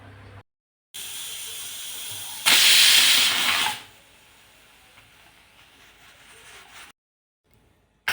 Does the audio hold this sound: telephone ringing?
no